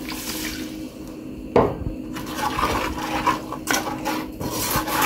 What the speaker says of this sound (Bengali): কয়েক মিনিট ভেজে নেওয়ার পর দিয়ে দিচ্ছি 1/2 কাপ পানি